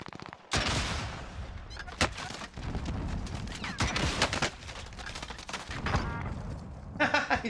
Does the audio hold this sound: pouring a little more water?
no